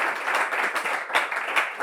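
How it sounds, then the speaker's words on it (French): A short burst of audience applause at a Bible quiz event, close and dense clapping that holds steady for under two seconds. "On l'applaudit."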